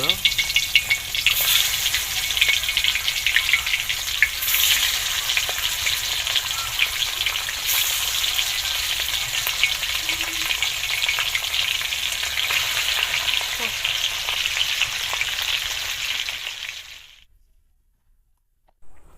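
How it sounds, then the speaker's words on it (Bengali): Nigella seeds (black cumin) tempering in warm oil for a Bengali hilsa dish, a steady crackling sizzle that holds for about seventeen seconds with a few brief stirring knocks, then cuts off to silence. "হালকা গরম তেলে সামান্য কালো জিরা ফোড়ন দিন"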